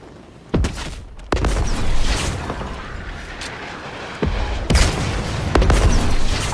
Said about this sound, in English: Oh, is it a rocket fight then?